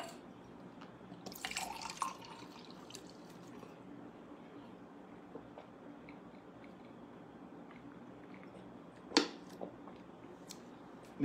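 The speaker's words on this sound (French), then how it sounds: "Je vais prendre un petit verre d'eau si vous me le permettez." A small glass of water is poured in a quiet room; faint trickling and dripping sounds, with a brief clearer splash or clink near the start and another sharp one later, no talk.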